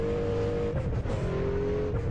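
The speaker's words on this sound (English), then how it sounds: "All these Formula 1 cars driving around now." High-pitched Formula 1 engines in a video game whine steadily, a continuous drone of cars circling with slight shifts in pitch as they pass.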